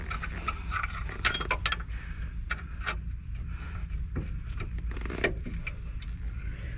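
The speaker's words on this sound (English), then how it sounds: "we can go on with the normal ratchet now, and she's nice and loose" A ratchet spanner works a brake caliper bolt loose on a Ford Fiesta ST 150 in the middle of a brake upgrade, giving quiet, uneven bursts of sharp mechanical clicks with no one speaking.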